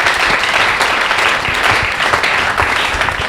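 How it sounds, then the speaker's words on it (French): A studio audience applauds a comedian on a Lubumbashi television show, with dense, steady clapping that stays loud and even for the whole stretch. "nous demandons au public de pouvoir applaudir très fort"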